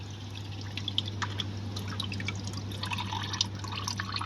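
Old oil mixed with engine flush drains steadily from a Perodua Kelisa engine, a continuous trickling and dripping over a steady low engine-bay hum, with no talk.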